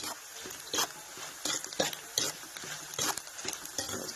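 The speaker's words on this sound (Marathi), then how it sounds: "आता फक्त साबू टाकून हलवून घेणार आहे" A spoon stirs sabudana into potato khichdi in a pan, with repeated scraping strokes that come in an irregular rhythm over a light background sizzle. The sound is close and fairly quiet, with no voices.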